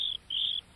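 Crickets chirp in a high, bright trill, in two or three sustained pulses with short gaps between them. The sound is clear and close.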